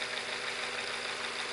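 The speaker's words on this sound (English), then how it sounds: "I'm just going to run it at a slow speed here." A Visible V8 model engine runs at slow speed, around 773 RPM, giving a steady, even mechanical whir and fast patter, close up and constant with no talk.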